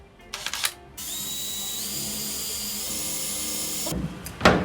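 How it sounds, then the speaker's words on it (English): Power drill boring holes in the roof of a Toyota Coaster bus for a roof fan installation, a steady close high-pitched whine held for about three seconds, bracketed by brief clicks and clattering handling noises. "So the 4 holes that we drilled"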